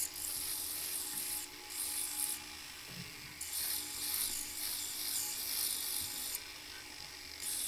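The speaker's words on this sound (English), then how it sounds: "I've changed my sanding disc to a fine sanding disc, and I'm getting the final edges sanded up here" A fine abrasive sanding disc rasps steadily against the metal edges of a druzy quartz pendant, a continuous gritty hiss that briefly pauses and resumes in a few bursts.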